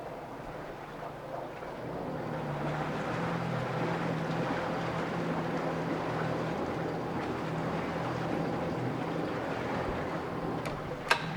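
A 2014 Yamaha 50hp high-thrust outboard boat motor runs steadily at low RPM, a continuous low drone with some wind noise over the microphone and a brief sharp knock near the end.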